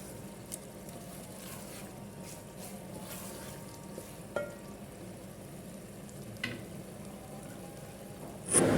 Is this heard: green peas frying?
yes